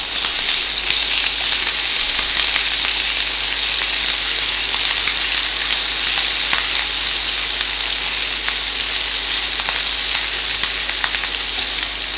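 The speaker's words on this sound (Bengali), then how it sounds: "এরপর তেলের মধ্যে সর্ষে ফোড়ন দেব। কিছুটা নাড়িয়ে নেওয়ার পর আদা বাটা দিয়ে ভাজতে থাকবো।" Mustard seeds and ginger paste fry in hot oil for a Bengali shukto, giving a steady, close, loud sizzle with faint crackles and occasional stirring throughout, no voices.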